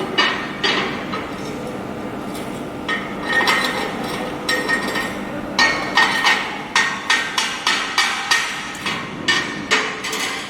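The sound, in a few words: chipping hammer knocking slag off a butt weld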